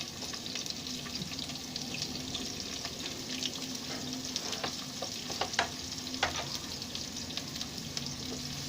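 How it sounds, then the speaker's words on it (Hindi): Sliced onions fry in a pan for a restaurant-style tarka daal, a steady sizzle with scrapes and clicks of stirring throughout, fairly quiet and continuous with no voices. "और दोस्तों मिक्स करके इसको लाइटली ब्राउन कर लेना है।"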